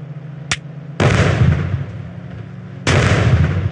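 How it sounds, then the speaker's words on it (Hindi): A cannon fires in a video game: a short sharp pop followed by two loud booming blasts with rumbling decay, close and alone without talk. "मैं इसे तोप से उड़ाऊंगा"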